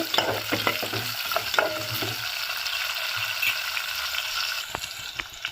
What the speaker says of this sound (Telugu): ఇప్పుడు ఆనియన్స్ వేసుకుందాము. కొంచెం లైట్గా ఫ్రై అవ్వాలి ఆనియన్స్.